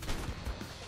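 Muffled shotgun blasts in ARK, two or three soft low thumps close together, faint and brief against a quiet background.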